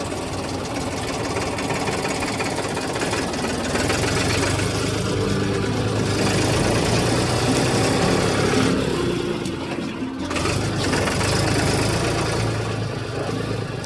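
A tractor engine chugs loudly and steadily close by, with a brief dip in its rumble before it resumes.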